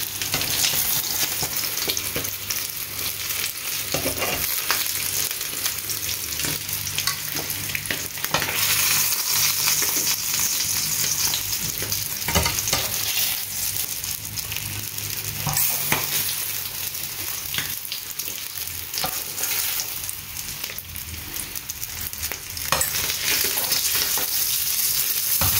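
Sea bass fish frying in hot oil crackles loudly and continuously, a thick, close sizzle with faint stirring clatter running throughout.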